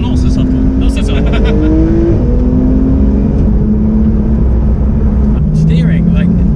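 Porsche 991 GT3 on the road, its exhaust cracking and burbling on throttle lift-off over a loud, steady engine drone, with a few sharp pops near the end and someone talking over it.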